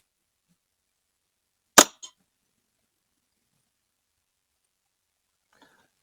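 A Snowpeak M18 airgun fires a single pellet at a target: one sharp, loud close crack followed by a brief metallic tick, then near silence with a faint later click.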